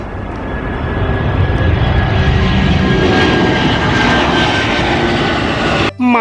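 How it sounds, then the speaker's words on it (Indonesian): A toy airplane's loud, steady engine roar sound drones on without a break, then cuts off abruptly at the very end. "Di sini ada pesawat terbang."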